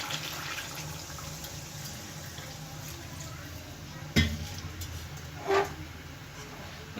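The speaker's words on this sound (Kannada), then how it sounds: "ಈಗ ನಾನು ಇದಕ್ಕೆ ಒಂದು ಸ್ವಲ್ಪ ನೀರು ಹಾಕೊಳ್ತಾ ಇದ್ದೀನಿ" Water poured into a pan of Daba-style chicken fry makes a steady close hiss, with two brief splashy bursts toward the end.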